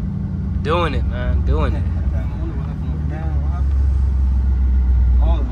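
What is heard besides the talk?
Ford Mustang being driven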